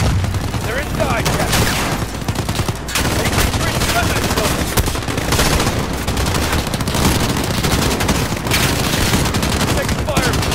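Rapid gunfire from the Call of Duty Modern Warfare campaign, dense bursts of automatic fire and shots crackling almost continuously, loud and close, with a brief lull near the three-second mark.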